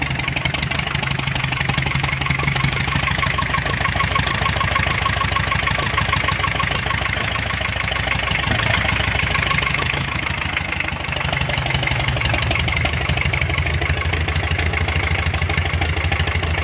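A homemade tractor engine, a single-cylinder motor, idles steadily on its first start with no talk, the loud, continuous running sound holding level for about seventeen seconds.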